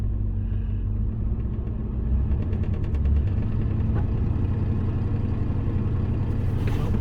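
Ford F-150 pickup backing up in reverse while hooked to the front of a BX23S tractor, a loud, close, steady low engine rumble that holds throughout.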